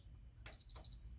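A Sony Hi8 video deck powering on gives three short, high electronic beeps in quick succession, faint and close, over a quiet low hum.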